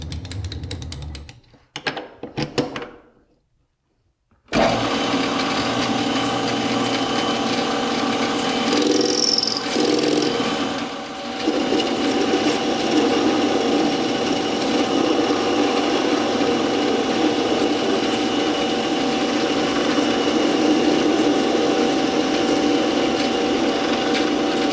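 A steady metal lathe hum with a continuous grinding, scraping cut as it faces cold rolled 4140 steel, running throughout after a brief quiet gap near the start; close and even, no voices.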